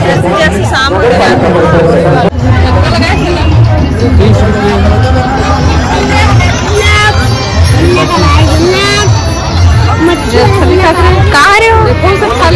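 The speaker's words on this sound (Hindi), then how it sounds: "मेला में भीड़ काफी बढ़ गई है" A dense crowd fills a busy village fair at evening, with loud, continuous babble and chatter from many voices close around, overlapping conversations and shouts blending into one steady hubbub.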